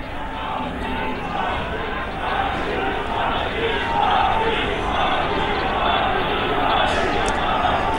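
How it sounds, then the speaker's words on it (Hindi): A large crowd at a BJP victory rally chants Modi slogans, a dense continuous roar of massed voices that stays loud and steady throughout with no pause. "तो मोदी के नारे भी लग रहे हैं"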